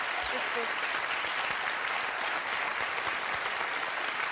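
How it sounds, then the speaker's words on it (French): Reality-show contestants on Loft Story 3 receive sustained applause during a live gala: a continuous, even roar of many hands clapping, fairly loud, with voices faintly mixed in. "Ça mérite des applaudissements."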